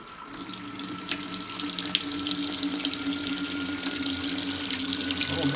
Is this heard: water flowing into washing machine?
yes